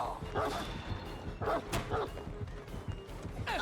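A dog barks several times in Dead by Daylight, short yips and woofs in a quick irregular burst, close and moderately loud over faint game ambience.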